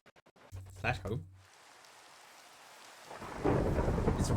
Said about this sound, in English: It's raining and lightning here